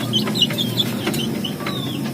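Free-range village chickens cluck softly and intermittently in an outdoor yard at midday, with short chirpy calls scattered over a steady background hum.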